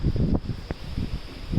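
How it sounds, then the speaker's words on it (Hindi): Strong cyclone wind blowing outdoors near coconut trees, a steady loud rush buffeting the microphone with brief rustling gusts throughout. "इतनी तेज़ हवा है दैट मैं फ़ोन को भी मुझे टाइटली पकड़ के रखना पड़ रहा है"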